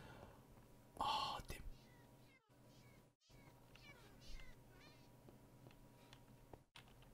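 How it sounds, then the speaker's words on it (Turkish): A cat in Minecraft lets out a short, sharp meow as it dies, loud and sudden, followed by quieter game sounds and soft whispered speech. "Sanırım az önce bir kedi öldü."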